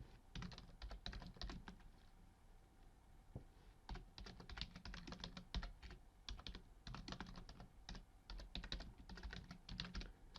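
Rapid, irregular bursts of key clicks on a computer keyboard, close and fairly faint, continuing steadily with brief pauses between runs of typing and no voices.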